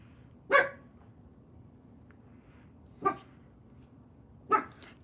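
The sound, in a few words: dog barking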